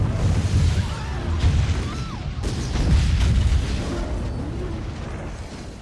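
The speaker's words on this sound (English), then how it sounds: "fireworks, lovely." Fireworks burst over a lake, with deep booms and crackling pops in a dense, continuous barrage and a few whistling rockets rising through it.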